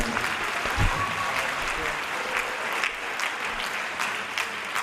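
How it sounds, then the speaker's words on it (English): Applause from the audience at an eighth-grade moving-up ceremony, steady moderate clapping throughout, with a brief murmur of voices near the start. "You can clap if you'd like."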